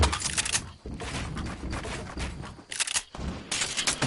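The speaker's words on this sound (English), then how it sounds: "The other guy started shooting again" Rapid gunfire in a solo Fortnite match comes in several dense, crackling bursts split by short gaps, loud and with no one talking.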